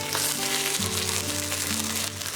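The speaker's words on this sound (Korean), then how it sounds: "지글거리는 소리가 들릴 때마다 집에 온기가 더해지는 것 같아요." A kimchi pancake sizzles steadily in a hot pan, a close, continuous crackling fry with no voices.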